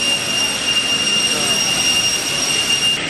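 Jet engine roaring steadily at an airport, a loud sustained whine with a high pitched tone over a low rumble, heard from nearby on the ground.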